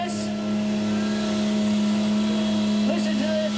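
A common rail tractor-pulling diesel engine idles with a loud, steady drone and a constant tonal hum. Crowd noise and faint talk sit in the background.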